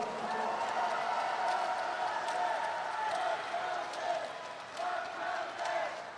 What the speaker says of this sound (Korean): 박찬대 후보에게 아낌없는 박수를 부탁드립니다.